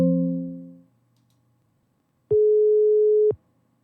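A telephone line after dialing: a fading electronic tone, a short gap, then one steady flat beep lasting about a second and cutting off sharply, like a busy signal.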